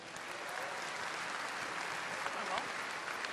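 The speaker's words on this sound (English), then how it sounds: "How about one last round of applause for our panelists?" Audience applause at the close of a StarCraft II: Heart of the Swarm panel at BlizzCon, a steady dense wash of clapping from a large crowd throughout.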